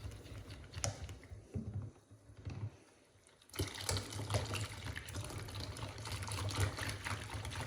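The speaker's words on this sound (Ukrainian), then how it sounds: "Потім, не перестаючи вимішувати, вливаємо всю воду" Boiling water pours steadily into a bowl of pancake batter while it is stirred, with a short pause before a longer, louder continuous pour and clattering mixing.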